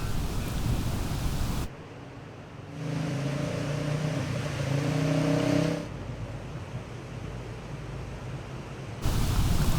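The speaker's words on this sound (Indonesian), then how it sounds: "Namun sebagian jalan masih dapat dilewati oleh sejumlah kendaraan baik motor maupun mobil." Cars and motorbikes drive through flood water on a partly passable road, giving a steady broadband wash of engine noise and splashing that swells and fades as vehicles pass, with no talking.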